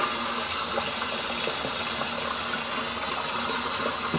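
Tap water runs in a steady, soft stream while a shaving brush is wet with peppermint shaving soap, a continuous gentle splashing rush at low level.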